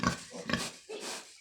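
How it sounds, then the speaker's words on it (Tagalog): A sow on a farm in the Philippines gives a few close, rough grunts and snorts in quick succession, then a longer lower grunt, with no one speaking. "ito yung inahing baboy"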